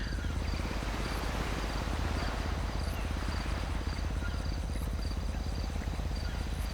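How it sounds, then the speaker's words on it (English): Steady, continuous insect chirring at a constant level, dense and unbroken throughout, with no voices. "I hear the insects buzzing."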